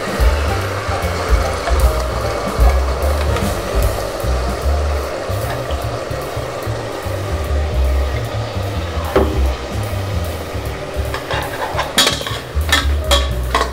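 Ground urad dal is sautéed in a pot for egg biryani, a steady rumbling sizzle with a spoon scraping and clinking against the metal, busier knocks near the end.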